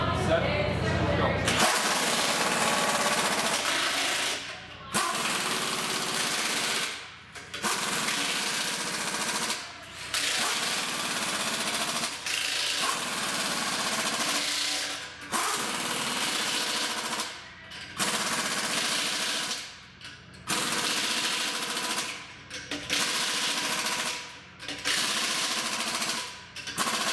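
Milwaukee M18 FUEL high torque impact wrench hammering lug nuts, loud repeated rattling bursts of several seconds each with short pauses between, steady and close throughout.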